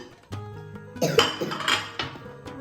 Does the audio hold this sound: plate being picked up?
yes